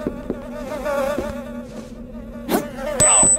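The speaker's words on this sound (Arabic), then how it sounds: "نحلة." Insect-like buzzing of a bee in the video game The Gate, a steady droning tone rising and wavering near the listener, with brief game effect sounds and a high electronic tone toward the end.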